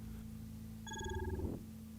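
Phone in the Batman: The Telltale Series video game rings once with a bright electronic trill over a low steady game hum, close and clear.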